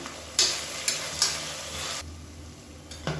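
Onions sautéing in oil with a little salt for chicken biryani, a continuous sizzle broken by several sharp scrapes of a spoon stirring the pan, close and clear with no talk.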